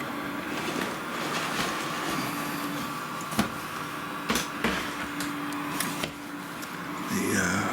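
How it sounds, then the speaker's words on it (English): Inside an open 2002 home-built PC with an MSI board, the processor heatsink fan runs as a steady close hum, with scattered clicks and handling knocks over it. "The fan on the heatsink for the processor is running, which is good."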